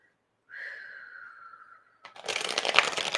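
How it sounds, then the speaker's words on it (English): A sustained whirring riffle, then a rapid, crisp flurry of cards being shuffled, close and fairly loud. "I'm going to shuffle one more time"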